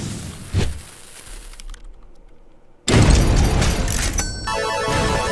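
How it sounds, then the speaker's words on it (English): A big suicide-bomber explosion in the action platformer Skul: The Hero Slayer, a sudden loud burst after near silence, followed by a dense crackling rumble that stays loud to the end. "That's a fat explosion, if I've ever seen one"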